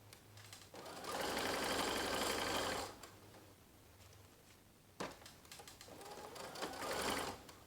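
A sewing machine top stitches ribbon onto a separating zipper in two close, steady bursts of whirring stitching, with a quiet pause between them and no talk.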